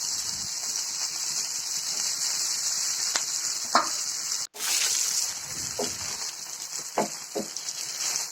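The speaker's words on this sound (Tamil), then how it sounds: "ஸோ இந்த மாதிரி தனித்தனியாக போட்டு நல்லா ஃப்ரை பண்ணணும்" Pieces of chilli idli frying in hot oil, giving a loud, steady hissing sizzle with a few sharp pops and faint clinks of a turning spoon, close by and without talk.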